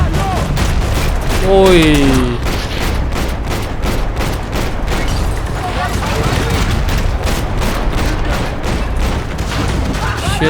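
AK-47 fire in the video game Max Payne 3, a dense, loud, continuous fusillade of shots running the whole stretch, with a brief voice exclamation near the start.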